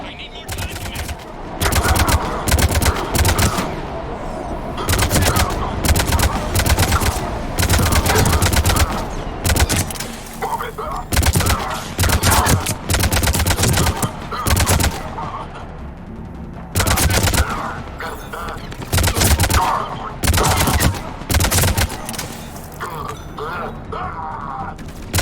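Rapid bursts of automatic gunfire in Mass Effect 3 Legendary Edition combat, loud and dense with repeated sustained volleys, brief pauses between strings of shots, and mechanical clatter throughout.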